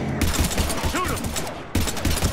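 Combat gunfire in Mass Effect 3 crackles in quick overlapping bursts, close and loud, briefly cutting out mid-clip before resuming, with voices calling out during the fight.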